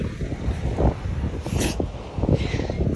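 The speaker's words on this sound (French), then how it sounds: "Il y a grave de vent." Strong outdoor wind buffets the microphone in a loud, continuous roar with gusty surges and no speech.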